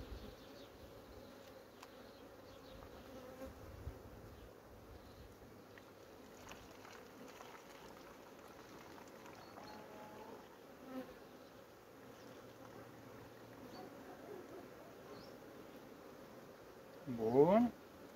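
Honey bees taking a syrup treatment give off a faint, steady buzzing hum throughout, with a brief louder buzz close by near the end.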